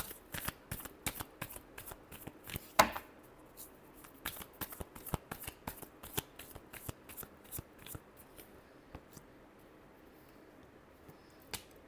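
Tarot cards being shuffled by hand in a quiet room, a rapid series of crisp riffling flicks and soft card slaps, close and fairly faint, with a brief voice near the end.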